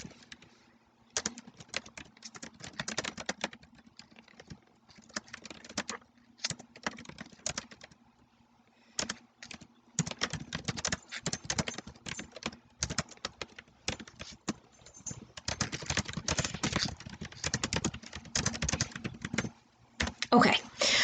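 Keystrokes on a computer keyboard while writing the opening line of an MLA paper, arriving in quick irregular bursts with short pauses, close and moderately loud, with no one talking.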